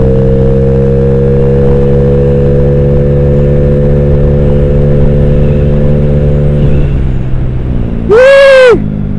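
Honda Beat 130cc standard motorbike engine drones steadily with a rising hum, loud and close throughout, ending in a brief sharp whine.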